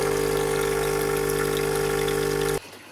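A DeLonghi La Specialista Arte espresso machine runs its pump as it flushes water, a steady loud humming drone with rushing water that cuts off abruptly near the end and leaves quiet.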